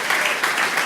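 Applause from a church congregation during a sermon, a dense steady clatter of many hands filling the whole second with no break.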